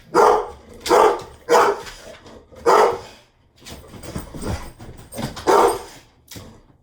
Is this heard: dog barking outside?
yes